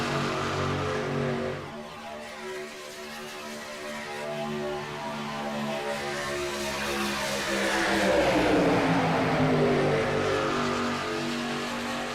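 Ram race trucks lap Daytona in a sim racing duel, engines droning steadily and swelling louder as the pack passes, a continuous roar with rising and falling pitch and no voices.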